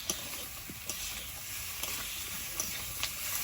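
Bay leaves sizzling in hot oil, a steady faint hiss of frying with a few soft crackles and pops, with no one talking.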